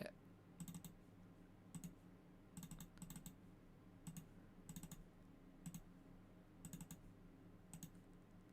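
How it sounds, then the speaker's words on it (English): A computer keyboard and mouse in use during a Shenmue 2 stream, giving quiet irregular clusters of clicks and taps repeated throughout, close but low in level over a steady background hum. "Can you hear an awful lot of clicking?"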